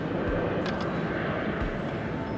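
A plane flies overhead, a steady broad engine roar that stays constant and fairly loud through the short stretch, with no talking.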